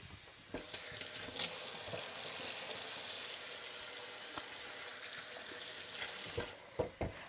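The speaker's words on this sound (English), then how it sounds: "I'm going to wash my hands, they're a little bit sticky." Hands sticky with marinade rinsed under a running kitchen tap, a steady broadband rush of water with a few soft knocks and splashes, close and fairly loud, while a pan sizzles in the background; no one talks.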